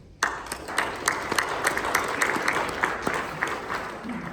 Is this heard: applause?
yes